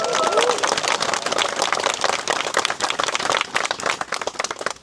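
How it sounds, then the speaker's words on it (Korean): Applause at a memorial rally for a delivery workers' union, sharp individual claps from a nearby crowd forming a loud, uneven round that thins and fades toward the end. "힘찬 박수 부탁드리겠습니다"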